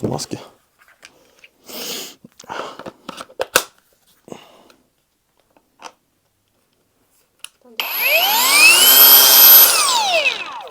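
A DNIPRO-M angle grinder winds up at its first speed, a rising whine settling into a loud steady hum near the end, after stretches of people talking and handling items.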